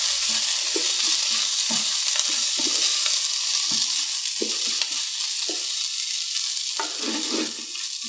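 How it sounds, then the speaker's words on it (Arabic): Lentils sizzle and fry in hot oil as they are stirred in a pan for Alexandrian yellow koshari. The frying hiss is steady and close, with repeated scraping stir strokes, and no talk. "وانزل العدس عليهم واديله تقليبه سريعه عشان يتغلي في الزيت"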